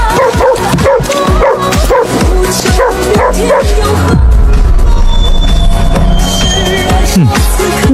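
A dog in an animated scene barks and yips repeatedly in quick bursts, loud and close, with whimpering tones, ending in a dense mix of sound.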